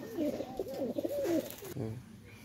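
Pakistani teddy pigeons cooing nearby, a series of soft throaty warbling coos in close succession.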